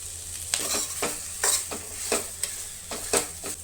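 Paneer gravy with tomatoes being stirred and fried in a pan, rhythmic scraping strokes about once or twice a second over a steady close sizzle, no voices.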